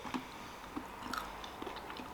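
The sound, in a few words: crunchy low carb granola being chewed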